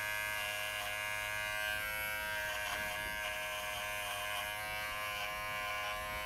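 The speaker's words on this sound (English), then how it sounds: "there's absolutely no vibration to this clipper at all, which I really love" A Wahl Figura cordless lithium-ion clipper with a 30 blade hums steadily and smoothly while trimming a standard poodle's face, a close, even buzz running unbroken throughout.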